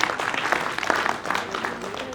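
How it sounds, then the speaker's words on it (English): An audience at a stress-management motivational session for bank staff claps together in a brief burst of applause, fairly soft and heard from a distance, with a little talk mixed in. "Can I have a round of applause for her?"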